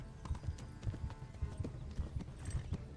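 Rhythmic clip-clop of horse hooves in the medieval video game Kingdom Come: Deliverance, steady repeated strikes at a trotting pace, fairly close, with a faint background hum and no talking.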